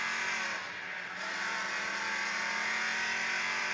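Race car engines in the Demolition Derby 3 video game at Mega Speedway drone in a steady, continuous high-pitched roar, with a brief dip in loudness early on before holding level.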